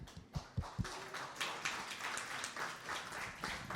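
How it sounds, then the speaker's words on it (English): A small group claps in a brief burst of applause, the sharp claps quickly blending into a continuous patter that fades slightly. "So round of applause for them."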